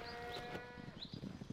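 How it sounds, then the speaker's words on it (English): Swaledale purebred sheep bleating on a farm, a few short faint bleats over a quiet outdoor background, heard from some distance with no talk. "The sheep are mostly Swaledale purebred, around about 550 ewes."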